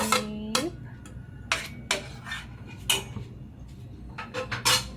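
Stirring cheese into macaroni until it melts, with a spoon repeatedly scraping and clinking against a metal pot in irregular bursts, close and clear, a faint steady hum beneath.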